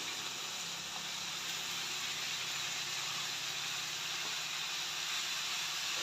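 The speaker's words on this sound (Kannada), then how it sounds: "ನೋಡಿ, ಇವಾಗ ಚೆನ್ನಾಗಿ ಫ್ರೈ ಆಗ್ತಾ ಇದೆ." Gongura leaves frying in hot oil, a steady, dense hiss and sizzle that stays even and unbroken throughout, close and without talk.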